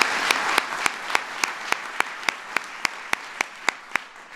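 An audience of mayors at the First Lady's event on housing veterans applauds in a steady wash of clapping, with a single sharp, evenly spaced clap standing out in a regular rhythm throughout.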